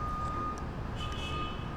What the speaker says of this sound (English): it has a whole bunch of loud beeps that cover up the sound of nature